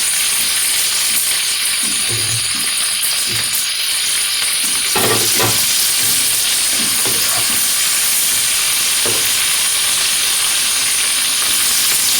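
Tomatoes dropped into capsicum frying in a pan for chilli fish give a steady bright sizzle and hiss, with a few soft stirring clunks mixed in, close and continuous without talking.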